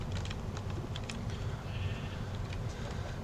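Sheep bleating in Minecraft, a few short game bleats rising over a steady, dense background of game ambience and noise, with no talk.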